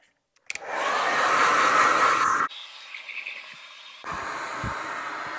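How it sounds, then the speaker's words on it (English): A blow dryer switches on with a click and roars steadily for about two seconds while drying hair, cuts to a quieter hum, then starts up again, loud and close. "I'm going to blow dry, if I can get my blow dryer out."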